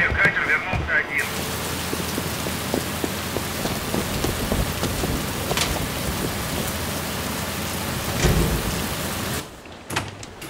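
Heavy rain pours steadily through a storm at sea off the White Sea coast, with a few louder thunder cracks rising above the downpour before the sound drops away near the end.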